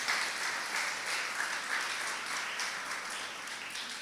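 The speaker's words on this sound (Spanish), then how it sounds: "Denle el aplauso y se lo va a dar" Applause from a church congregation during a sermon, a steady wash of many hands clapping at moderate distance throughout, with no talk over it.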